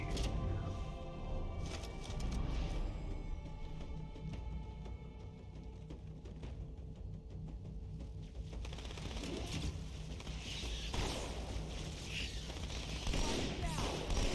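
Rapid bursts of weapon fire at swarming bugs in the Halo 2 video game, dense rattling volleys and mechanical clatter layered with game effects and a voice talking over parts.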